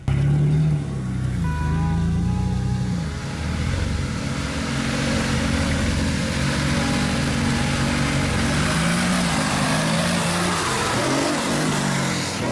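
An off-road jeep on large tires climbs a trail at a Jeep owners' day event in Joinville, its engine revving loudly and steadily throughout, close by, with no talk.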